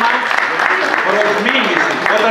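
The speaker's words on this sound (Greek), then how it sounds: "Άρα του αξίζει ένα θερμό χειροκρότημα" A crowd claps steadily and densely, a continuous wash of applause with voices mixed in underneath.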